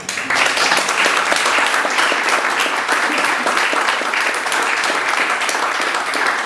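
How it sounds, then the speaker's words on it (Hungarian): An audience at a university innovation club evening on gastronomy applauds the speakers, a loud, sustained, even wash of clapping from many hands that holds for the whole stretch. "Köszönetképpen egy tapsot, hogyha lehet."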